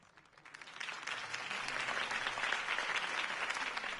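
A crowd in the Batman Telltale video game bursts into applause that swells quickly and holds steady as a dense, continuous wash of clapping.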